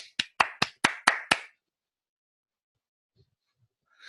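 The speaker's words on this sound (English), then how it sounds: "I would applaud." A single person clapping in a lecture hall, six quick, sharp claps in an even rhythm close to the microphone, followed by near silence.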